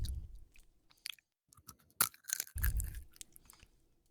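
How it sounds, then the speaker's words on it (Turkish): Wet, smacking chewing sounds close up, with loud lip smacks and crunchy bites in bursts and brief pauses between. "şapırdatmadan ye kardeşim şunu"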